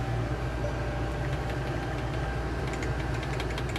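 A 2023 Winnebago Revel 44E camper van engine running after startup, a steady low idle with a faint knocking rattle, heard from close by at moderate volume with no talk.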